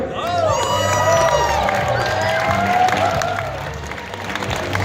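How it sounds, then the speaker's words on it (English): A crowd applauds and cheers loudly at a cosplay contest at the Midwest Gaming Classic in Milwaukee, with shouts and whoops rising over continuous clapping that fills the space. "Round of applause for John Martin and for your first place per"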